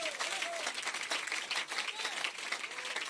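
Church congregation clapping hands together in a dense, continuous wash of applause that holds steady throughout, with faint voices mixed in.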